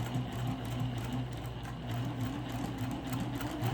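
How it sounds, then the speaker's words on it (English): A sewing machine stitches fabric for a tray, a low steady mechanical hum with faint rhythmic needle pulses, close and uninterrupted for a few seconds. "And now I'm going to start to sew."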